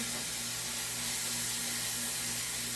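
Minced garlic sizzling steadily in a hot pan, a continuous close hiss with no talk.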